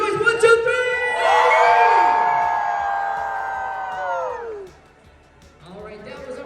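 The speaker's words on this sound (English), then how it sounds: "scream and shout, make some noise" A convention panel audience at Galaxycon for Demon Slayer voice actors erupts in sustained, loud high-pitched screaming and shouting for several seconds, then drops off quickly, leaving scattered voices.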